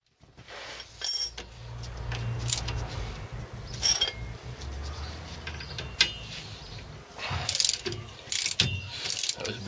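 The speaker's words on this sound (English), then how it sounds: "you can buy the proper prop shaft nut tool" A spanner works a Land Rover Series prop shaft nut at a Salisbury differential, making intermittent ratcheting clicks and metallic clinks in short bursts spread over several seconds, fairly near and moderately quiet.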